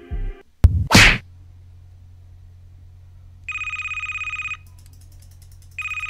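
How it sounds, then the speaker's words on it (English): Telephone ringing in the horror video game Fredbear's 83 Reborn, two electronic ring bursts after a sharp thud, clear and moderately loud over a low steady hum. "Yeah, the phone's ringing."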